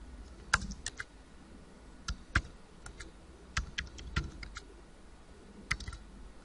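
Keys clatter on a computer keyboard while a birth month is typed into an account sign-up form, giving sparse, irregular clicks in short bursts, close and fairly quiet, with no talking.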